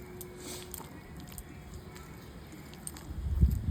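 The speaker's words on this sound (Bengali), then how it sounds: "এই সব মশলাগুলোকে আমি একসঙ্গে মেখে নেব।" Fish roe being mashed and kneaded by hand with Kashmiri chili powder and salt, giving close, soft wet squelching in a steady irregular stream that swells louder toward the end, with no voices.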